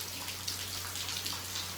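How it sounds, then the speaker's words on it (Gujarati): Heavy rain falling steadily outdoors, a dense patter of drops close by with a low hum underneath and no talking. "આજે અમારે છે ને અહીંયા બહુ વરસાદ છે અને હું નાઈ વરસાદ ચાલુ છે"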